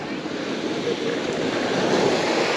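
Steady sea surf washing onto Lazarevskoye beach in Sochi, a continuous broad rush of breaking waves close by with some wind across the microphone and no talk.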